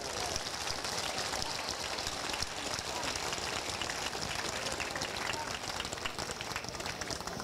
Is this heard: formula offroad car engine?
no